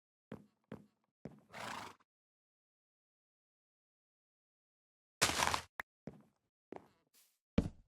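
Minecraft horse in a blocky video game world letting out a few short neighs and snorts, with game footstep clicks scattered between them and a long silent gap in the middle.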